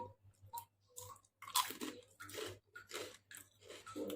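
Close, crisp crunching as someone bites and chews golden homemade pea crackers, several irregular crunchy bites with short pauses between them.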